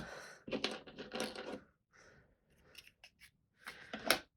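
A paper card being trimmed straight across for a lacy Z-fold craft card, heard as several crisp, close cutting bursts with short quiet pauses between them.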